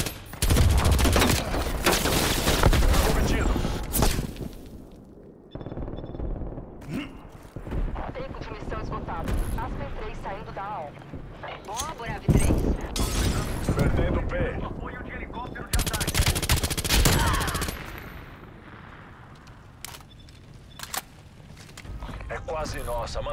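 Gunfire from Call of Duty Cold War multiplayer on the Moscow map in Domination mode: bursts of automatic fire and heavy shots come in loud clusters, with in-game voice callouts between them.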